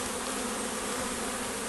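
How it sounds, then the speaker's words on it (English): A swarm of bees near a hive gives off a dense, continuous buzzing hum that fills the short stretch, steady in loudness with no talk. "I've got a few bees at the side here."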